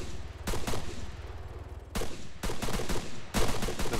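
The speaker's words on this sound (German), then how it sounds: "woher kommen die Schüsse denn?" Gunfire in the video game King of the Hill: loud bursts of rapid shots come in several clusters, separated by short pauses over a steady background.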